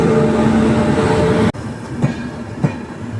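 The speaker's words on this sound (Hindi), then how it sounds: "एक रीवा एक्सप्रेस यहाँ पे इंटर कर रही है गाज़ियाबाद।" The Rewa Express rolling into Anand Vihar station in Delhi, a loud continuous rumble of wheels and carriages that drops suddenly midway, then clattering rail joints sounding at intervals.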